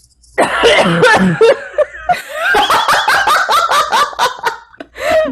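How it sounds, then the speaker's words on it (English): A cough rings out amid bursts of laughter and chuckling, with several voices close by and lively, fairly loud throughout. "Yes, that was a cough."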